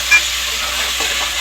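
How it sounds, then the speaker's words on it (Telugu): Onions frying in two spoons of oil for a chicken, potato and eggplant curry, giving a steady close hiss of sizzling with a faint stirring tap near the start. "2 స్పూన్స్ ఆయిల్ వేసుకుని ఆనియన్స్ వేసారు"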